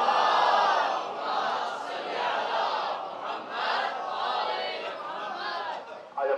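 A large crowd at a religious gathering chants slogans in unison, a loud, sustained wash of many voices rising and falling in waves.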